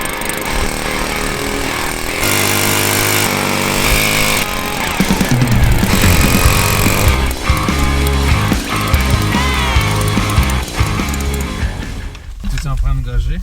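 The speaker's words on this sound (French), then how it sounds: "Il faut faire un trou dans la glace." Motorized ice auger boring a hole through lake ice, a loud steady buzzing engine drone that revs and churns for several seconds before cutting off, with voices talking over it.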